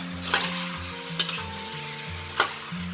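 Pork fat with skin, for crispy pork cracklings, fries in a pan with a steady sizzle while being stirred, a few sharp scrapes of the utensil standing out; no one speaks.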